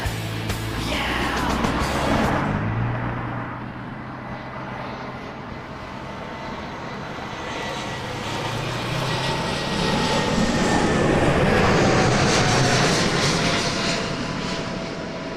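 A jet airliner roars down the runway and takes off at Toronto Pearson Airport at night, engine noise swelling loud then easing slightly and building again as it climbs, heard from nearby.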